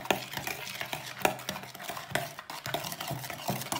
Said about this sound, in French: Tu mélanges fort, fort, fort. Il faut bien, bien, bien mélanger.